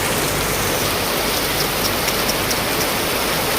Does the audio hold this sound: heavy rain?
yes